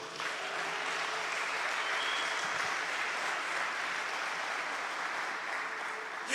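An audience breaks into sustained applause, a dense, even wash of many hands clapping that holds steady for several seconds at moderate distance, with no voices over it.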